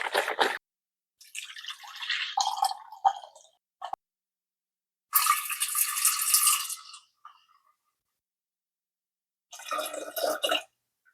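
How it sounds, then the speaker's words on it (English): Blueberry juice poured into a measuring cup while making homemade soda, heard as several separate splashing, trickling bursts with quiet gaps between them, close and moderately loud. "I'm gonna go ahead and measure in 2 cups of my blueberry juice and 4 cups of water."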